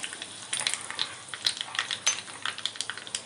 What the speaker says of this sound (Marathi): मोहरी छान अशी तडतडून द्यायची आहे